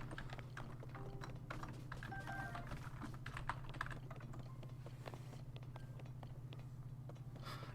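Typing on a computer keyboard: rapid, steady streams of soft key clicks close by, fairly quiet, with a constant low hum underneath.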